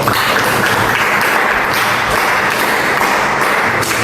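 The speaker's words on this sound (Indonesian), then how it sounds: "Tepuk tangan dulu untuk." Audience applause in a classroom presentation session, a dense, steady burst of clapping from many hands lasting a few seconds, loud and close with no talk over it.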